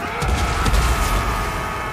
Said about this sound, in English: Let's see if we can get this guy to detonate